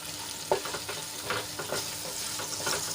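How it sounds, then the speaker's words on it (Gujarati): Garlic frying in hot oil, giving a steady close sizzle with soft scraping stir strokes and small spattering pops, and no voices. "આપણું લસણ સરસ રીતે તેલમાં સંતળાઈ ગયું છે"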